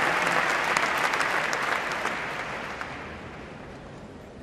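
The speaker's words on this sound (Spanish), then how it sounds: "este aplauso que de manera espontánea y puesto en pie todo el Congreso" The whole Congress rises to its feet in spontaneous applause, a dense wash of clapping from a large chamber that gradually thins and fades over a few seconds.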